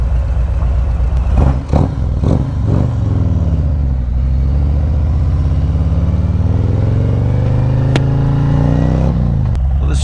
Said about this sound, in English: There's a lot of traffic going on here.